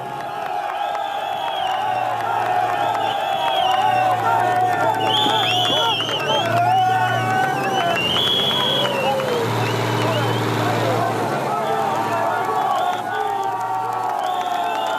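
A large crowd of opposition protesters held back by police fills the air with loud, continuous cheering, shouting and whoops, voices rising and falling in waves, with babble of many people throughout.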